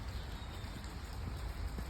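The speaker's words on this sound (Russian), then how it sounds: "Сегодня у нас дождик." Faint, steady rain hiss with soft patters on surfaces, distant and continuous, no voices, in the town of Ukhta, Komi Republic, in October.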